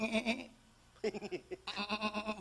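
A human voice imitates a goat's bleat in three wavering, nasal bursts, one long and two shorter, close and fairly loud.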